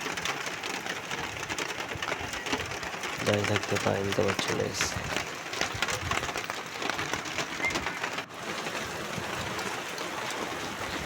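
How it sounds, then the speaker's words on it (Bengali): Heavy morning downpour drumming steadily close by, a dense continuous hiss of rain with a voice speaking over it and brief bird calls. "মুষলধারে বৃষ্টি"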